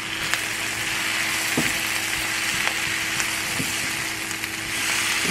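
Mushrooms frying in a pan with already-cooked onion make a steady, dense sizzle with a few faint stirring knocks, and no voices.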